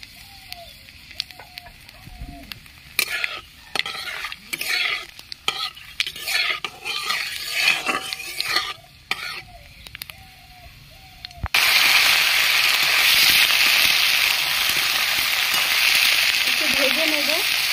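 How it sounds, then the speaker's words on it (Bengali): Nigella seeds and a dried red chilli hit hot oil in a kadai for a Bengali lau shaak chorchori, after a stretch of stirring clatter and scraping, then a loud, dense, continuous sizzle that fills the rest. "আমি কালো জিরে আর একটা শুকনো লঙ্কা ফোড়ন দিয়ে দিচ্ছি।"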